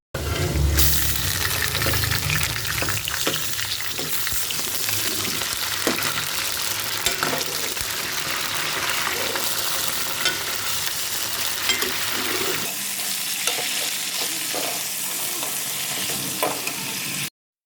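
Chicken pieces frying in hot oil in a pan for gobhi chicken, a steady loud sizzle with scraping and clattering stir strokes throughout, easing slightly toward the end, with no voices.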